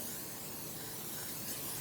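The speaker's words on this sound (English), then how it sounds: "I'm just gonna spray a little bit" A quiet, steady hiss of cooking spray from an aerosol can coating a baking pan, a short continuous burst with no talking.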